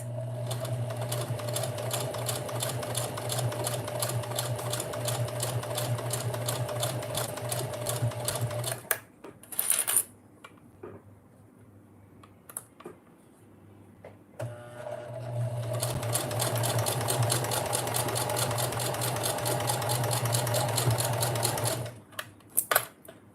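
A sewing machine stitches fabric around corners in fast, even bursts of rattling needle strokes. The stitching pauses briefly midway with a few soft handling sounds, then the machine starts up again, close and loud.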